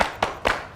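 Rhythmic group clapping chant in a children's Ramadan program, with three sharp close claps in a quick even pattern.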